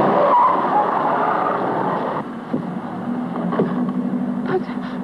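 A car from a 1938 film drives along with a steady engine rumble and road noise, then shifts slightly partway through, with a brief tire squeal and no speech heard.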